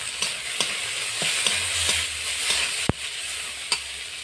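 Ginger paste and chopped tomato fry with onion paste in a pan, a steady hissing sizzle punctuated by sharp spatula scrapes and taps every half second or so, close and loud, without any voices.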